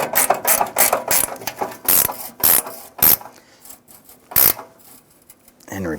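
Ratchet tightening grille bolts on a 1997-2006 Jeep Wrangler, a run of quick, loud clicking bursts close up with short pauses between strokes, then fewer spaced clicks toward the end.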